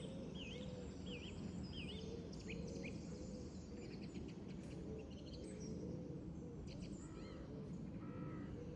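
Birds call at 5am on an early-morning walk in a cool breeze: repeated chirps and whistled notes, some near and some distant, over a steady bed of insect buzz and low ambient rumble.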